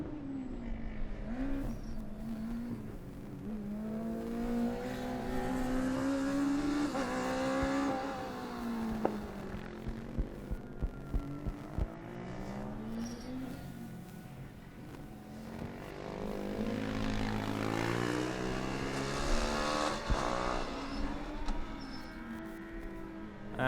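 Formula Student race cars run an endurance event at Formula Student Germany 2012, their engines whining and rising in pitch as they pass, then fading with gear-change blips before another car approaches loudly.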